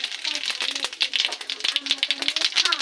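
Cumin seeds crackle in hot oil with bay leaf and whole garam masala for chicken kosha, a close, dense run of rapid sharp pops and sizzling spits that continues without pause.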